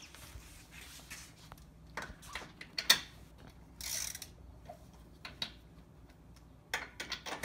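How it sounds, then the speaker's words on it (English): A 17 mm socket wrench loosening the lug nuts on a Razor 1000 side-by-side, giving a few faint ratcheting clicks and short mechanical rasps spread across a fairly quiet stretch. "Step one is to loosen your lug nuts."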